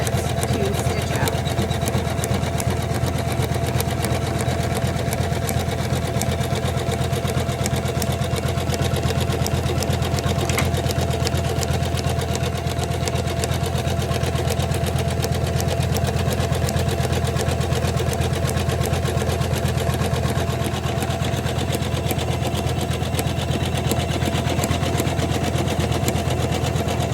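A Janome 500e embroidery machine stitches out a gnome Christmas ornament in the hoop, a steady loud mechanical whirring with fast needle clatter running continuously throughout.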